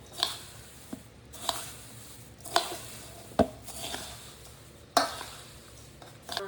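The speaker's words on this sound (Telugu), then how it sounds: "స్పూన్తో కానీ ఒక గంటతో కానీ ఇట్లా కింద మీద తీయాలి ఎక్కువ" Roasted poha mixture with oil being stirred slowly with a spoon, a series of soft scraping and tapping strokes about once a second against the pan over a faint background hiss.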